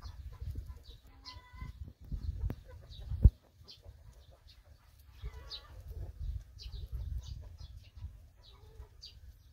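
Chickens, a mix of laying and meat breeds, cluck in the shade beneath a mulberry tree. Their soft, scattered clucks come from nearby over a steady low rumble, with a brief flutter of wings partway through.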